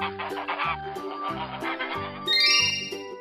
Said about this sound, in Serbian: To je guska.